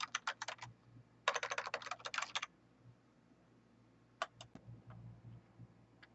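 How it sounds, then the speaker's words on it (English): Bursts of crisp clicking on a computer keyboard as a username is typed in to log in, several quick runs of keystrokes with pauses, close and clear over a faint background hum. "And then you can type in your username and log in."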